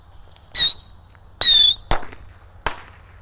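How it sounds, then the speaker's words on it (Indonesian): Three rocket firecrackers lit at once for New Year go off one after another with sharp bangs, two with whistling hisses, the others short cracks, loud and close with quiet gaps between. "di sini ada mercon roket minitor. Kita nyalakan 3 sekaligus ya."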